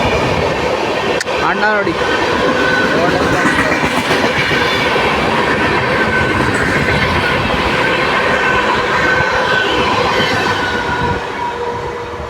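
A train races past at full speed in Karnataka with a loud, continuous roar, rattling clatter and a brief wheel squeal, fading slightly at the end. A voice speaks briefly near the start.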